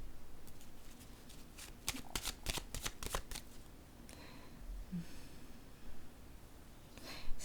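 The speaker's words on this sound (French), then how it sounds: "Je vais piger une autre carte." A deck of playing cards is shuffled up close, with a cluster of crisp riffling snaps in the middle and a final flurry at the end over a quiet, faintly noisy room.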